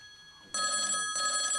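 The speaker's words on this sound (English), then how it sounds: "Randy, phone's for you." A telephone bell rings during a church Christmas play, two bright, loud trills with a short gap between them, heard over a quiet room.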